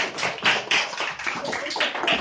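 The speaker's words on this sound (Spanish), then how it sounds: "Un gran aplauso." A small crowd, likely a school class, applauds a guest introduced on a mock celebrity interview show, a burst of clapping lasting a couple of seconds.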